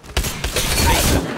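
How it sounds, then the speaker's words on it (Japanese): Gunfire bursts from a multiplayer shooter video game, two sharp onsets followed by a sustained rattling volley that swells and fades, fairly loud with no talk over it. "多分銃声鳴ってる。"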